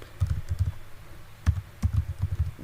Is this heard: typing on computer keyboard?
yes